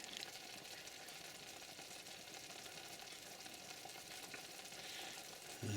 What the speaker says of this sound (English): Now I add the milk, and you've got to stir this all the time